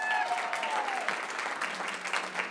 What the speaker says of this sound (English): Would you give everyone who has helped us a huge round of applause?